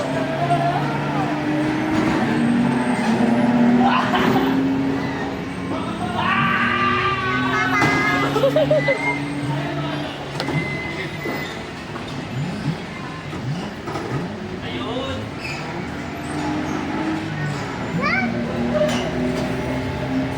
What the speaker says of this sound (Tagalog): Ang mga bata naglaro.